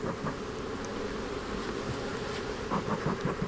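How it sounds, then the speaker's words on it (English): Honey bees buzz steadily around a crowded hive after a swarm, a dense, continuous drone close by with individual bees flitting past. "these bees are crowded"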